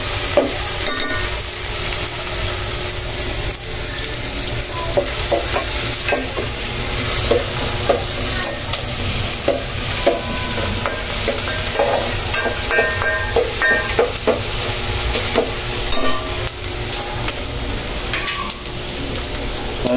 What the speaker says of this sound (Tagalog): Halo-halo lang natin mga kaibigan.